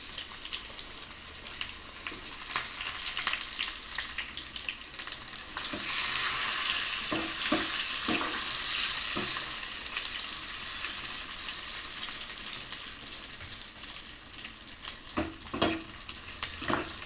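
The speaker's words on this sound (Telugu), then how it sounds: "ఉల్లిపాయలు వేస్తున్నానండి." Onions sizzling and frying in a pan while being stirred, a steady bright hiss with scraping and clinking of a utensil, loudest in the middle and close, with no talking.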